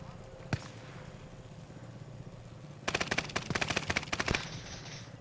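Machine gun fire in Call of Duty on Rebirth Island: a single early shot, then a fast rattling burst of rounds lasting over a second, moderately loud over faint background sound and brief talk.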